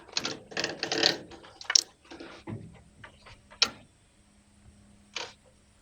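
Plastic taillight lens housing pulled straight back on a 2018-2024 GM truck, its pins unsnapping in a few close, sharp clicks and pops amid scraping and rattling plastic handling, quiet and without talking.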